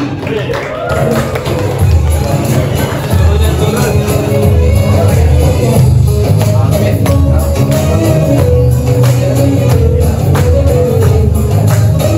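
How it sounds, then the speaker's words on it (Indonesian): A loud, dense burst of audience applause at a school religion-class performance event for performer number 7. The clapping runs steadily throughout with crowd murmur mixed in. "Kita kasih aplaus untuk nomor urut 7"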